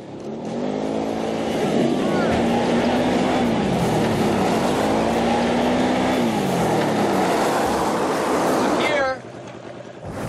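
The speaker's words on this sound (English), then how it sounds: "for the last mile, I had to ride my quad to get there." A quad ATV engine is ridden over rough ground on the final mile to a remote ranch outside Las Vegas. It drones loud and close with rising and falling revs for about nine seconds, then drops away abruptly near the end.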